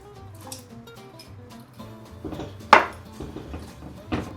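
Yeast and sugar being whisked in a bowl, light tapping and clinking of the whisk against the sides, soft and close with a couple of louder knocks.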